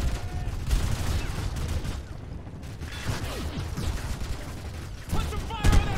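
Gunfire in Call of Duty: Modern Warfare, a dense fusillade of rapid shots with mechanical clatter filling the whole stretch, briefly easing mid-way before surging again near the end, with game voices faintly underneath.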